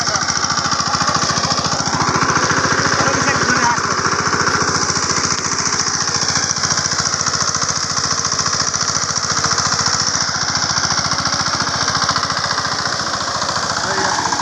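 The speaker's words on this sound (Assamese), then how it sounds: "ট্ৰেক্টৰে কেনেকৈ হাল বাইছে এয়াও দেখুৱাব।" Tractor ploughing a field in an Assamese village, its engine a loud, continuous, throbbing drone with a rapid knocking pulse that holds steady throughout.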